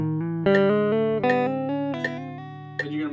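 Electric guitar playing a selective picking exercise with hammer-ons, clear sustained notes stepping in a steady pattern of downstrokes, close and loud with no voices.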